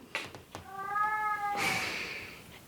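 A pet cat in a home kitchen gives a single clear, drawn-out meow at close range. A burst of rustling noise follows.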